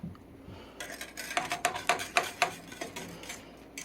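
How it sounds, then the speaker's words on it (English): A whisk clicks and taps rapidly against a pan as Zote laundry soap is worked off the edges, producing a quick run of sharp metallic ticks at moderate volume with no talking. "I'm whisking the sides of the pan to get all of the soap off the edges"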